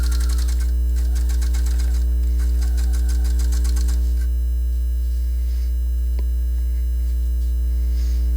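A sewing machine stitching through heavy denim jeans, running steadily with rapid rhythmic needle pulses for about four seconds over a constant electrical hum, then stopping while the hum carries on alone.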